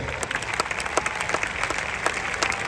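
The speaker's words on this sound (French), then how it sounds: "Acclame très fort pour le Seigneur." A funeral congregation applauds for the Lord at a burial in a necropolis, a dense, steady clapping from many hands with no break.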